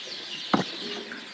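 Two-month-old cockerels on a poultry farm give a single short cluck, brief and clear, over a steady low farm background with no talk.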